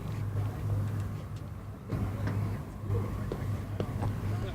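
A Messerschmitt KR200 microcar with a small motorcycle engine runs in reverse, giving a steady, buzzing low drone that hums continuously at moderate loudness.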